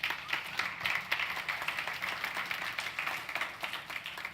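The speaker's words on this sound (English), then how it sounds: "Let's give them a big round of applause." Audience claps throughout at a motivational talk event, an even, moderately distant applause with no voices.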